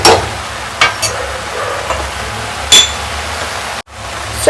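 Mushrooms fry in a pan for a home mushroom recipe, a steady close sizzle broken by a few sharp clinks and scrapes of a utensil against the metal, with no voices.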